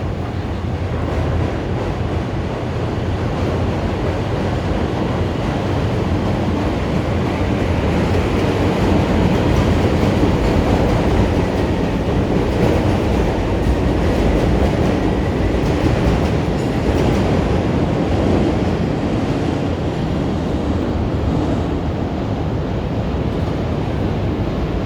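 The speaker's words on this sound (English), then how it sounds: "So there's the CTA train, Chicago Transit Authority train," A Chicago CTA elevated train passes in downtown Chicago, a steady, loud rumble of rail noise with clattering wheels that fills the whole stretch, heard from street level with some wind buffeting and no talking.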